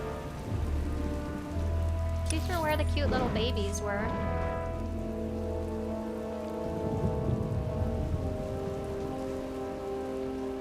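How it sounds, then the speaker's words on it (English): Steady rain falls in a rainy outdoor area of the video game Star Wars: The Old Republic, a continuous even hiss beneath game music, while a person talks over it. "Hopefully it's in this nice rainy area somewhere."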